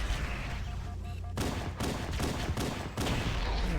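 Rapid video-game gunfire from the Halo CE co-op campaign, a dense, sustained volley of repeated shots with sharp bursts layered over a constant rumble of battle, loud and close throughout.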